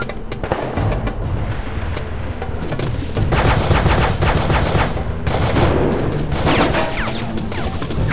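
Continuous heavy automatic gunfire in the combat video game Heavy Fire: Afghanistan, a dense, loud rattle of rapid shots and explosive bursts that carries on throughout without pause.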